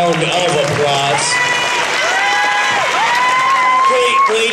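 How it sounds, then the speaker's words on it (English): A crowd cheers and applauds at a junior sport stacking competition's 3-6-3 event, with whoops and raised voices over steady clapping throughout. "Let's give him one more warm round of applause."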